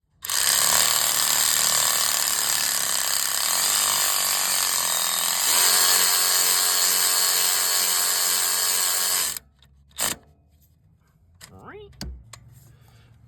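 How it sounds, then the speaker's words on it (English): A ratchet tightens the alternator bolts on a 2012-2017 Toyota Camry, its loud, steady clicking running for about nine seconds before stopping, followed by a few brief clanks and faint handling noises. "So next we're just going to put the 2 bolts back in."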